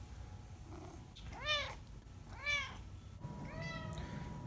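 A chatty cat gives three clear, drawn-out meows close by, separated by pauses, with a soft purring rumble running underneath in a quiet room.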